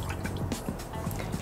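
Short burst of liquid pouring as dark rum, orange juice and lemon juice are measured into a shaker for a cocktail, with soft trickling and dripping up close.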